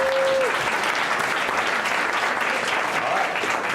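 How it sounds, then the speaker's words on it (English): A round of applause from an audience at a startup week sales event, steady and dense clapping for the whole stretch, fairly close and loud. "let's give them a round of applause"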